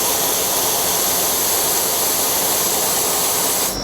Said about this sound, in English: So this is the luminous ultra-pulse fractionated CO2. So we'll just show you on a paddle pop stick